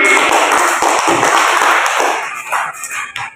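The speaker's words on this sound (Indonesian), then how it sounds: "Tepuk tangan" Classroom applause for a student group receiving a star rating, a dense burst of many hands clapping close by that fades somewhat toward the end, with a few louder individual claps.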